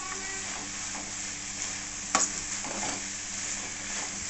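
Cluster beans fry with onion pieces in hot oil in a pan, giving a steady, close sizzle throughout, with a brief scrape of stirring partway through and no talking.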